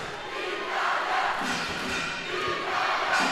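A crowd at the men's tchoukball final between Chinese Taipei and Italy at the 2023 World Championships shouts and chants for Italy, a loud, sustained roar of many voices swelling and ebbing in an indoor arena.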